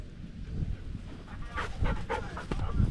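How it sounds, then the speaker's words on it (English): A puppy panting close up, rapid steady breaths, fairly loud with light rustling in the background. "Puppy, come here, puppy."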